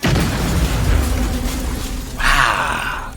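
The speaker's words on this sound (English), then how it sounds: "The bombs detonate upon opening." Mail bombs about the size of a VHS tape detonate: a heavy, rumbling boom with a sustained roar, then a second sharp blast with crackling debris near the end.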